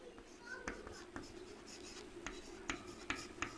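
Chalk or marker taps and scratches on a board during a math lesson, with a string of short irregular strokes that stay faint and close under a low room hum.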